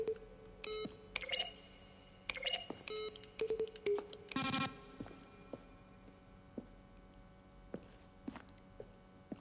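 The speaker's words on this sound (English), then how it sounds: "A selection of the sounds used throughout the game when buttons are pressed." Button presses from The Stanley Parable video game, each a keyboard stroke blended with a synthesized tone, sound as a sequence of short separate beeps and clicks with quiet gaps, some ringing briefly.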